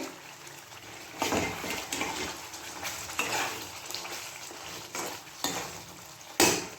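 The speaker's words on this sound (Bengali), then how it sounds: "চিকেনটা একটু কষা কষা করে নিই" Marinated chicken sautéed in a pan, steady sizzling with periodic scraping and stirring bursts from a spoon against the pan, close and without talk.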